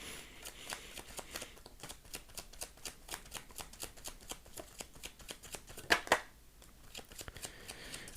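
Tarot cards being shuffled, a steady run of soft riffling clicks and slaps throughout, with a couple of louder snaps near the end, close and fairly quiet with no talk.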